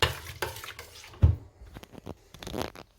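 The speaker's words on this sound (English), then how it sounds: "Give it a stir." Guava jam, with chunky fruit bits in juice, gets stirred in a pot: soft wet sloshing and a few spoon-against-metal scrapes and knocks, close and fairly quiet.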